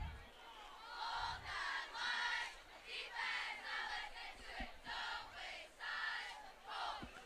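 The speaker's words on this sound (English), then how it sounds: "As you can hear in the background there, the cheer is hyping up the crowd for this defensive team on the Bruins side." Cheerleaders hyping up the crowd on the Bruins side at a varsity high school homecoming football game, rhythmic chanted cheers in repeated bursts, moderately distant across the field with crowd noise.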